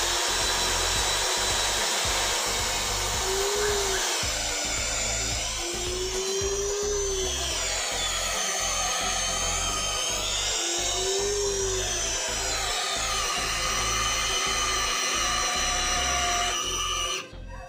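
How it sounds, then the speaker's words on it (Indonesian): A power drill on low speed (gear 1) in drilling mode bores through 15 cm thick mahogany with a 12 mm bit, giving a loud, steady motor whine that runs nearly continuously for about seventeen seconds, its pitch briefly rising and falling a few times. "pertama di sini saya menggunakan mata bor dengan ukuran 12 mm"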